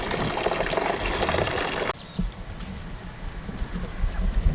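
Water pours steadily outdoors for backyard chickens, a dense rushing flow that cuts off abruptly partway through, leaving a quieter trickle and soft ambient noise.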